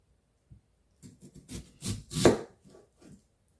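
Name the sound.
knife slicing vegetables by hand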